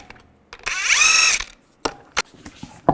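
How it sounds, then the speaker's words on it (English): A ratchet with a 22mm socket works the lug nuts on a 2010-2017 Chevy Equinox: a close whirring burst of nearly a second, then several sharp, separate mechanical clicks and knocks. "Take the lug nuts off."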